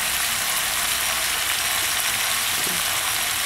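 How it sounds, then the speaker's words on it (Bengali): Chicken kosha sizzling in a frying pan while salt is stirred through it, giving a steady, close frying hiss with faint scraping from the stirring and no talk. "এবার লবণটা দিয়ে নাড়াচাড়া করে নিতে হবে খুব ভালো করে"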